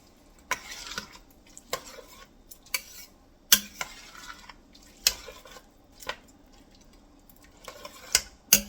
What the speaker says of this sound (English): I stir it real good